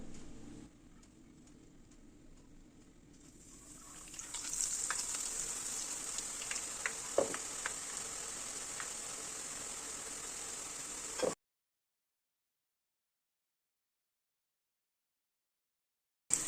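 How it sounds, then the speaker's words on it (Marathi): Boondi batter frying in hot oil in a kadhai, a steady bright sizzle that swells after a few seconds and carries on with small crackles and pops, then stops abruptly into silence. "बुंदी तळण्यासाठी ना आता तेल पण मस्त तापलेलं आहे"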